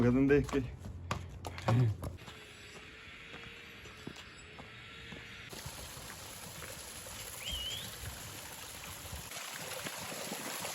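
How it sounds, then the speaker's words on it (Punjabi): Small natural waterfalls and a mountain stream on the Tosh trek give a continuous soft rushing wash that settles in after a few brief knocks and handling noises at the start, staying fairly faint and even. "ਛੋਟੇ ਛੋਟੇ ਨਿੱਕੇ ਨਿੱਕੇ ਝਰਨੇ"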